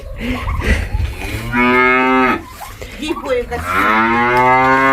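Two long, close moos from a young calf, drawn out and loud, separated by a short pause.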